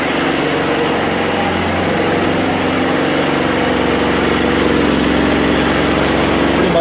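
A woodgas-powered engine running steadily at about 3,000 RPM with the air valve wide open, a loud, continuous close droning hum with no pauses or changes in pace.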